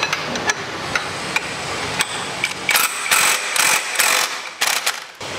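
A size 12 tool works the rear auto clutch of a Yamaha Aerox/NVX scooter in a close run of sharp metallic ratcheting clicks and taps, with a faster rattling burst of impacts near the end.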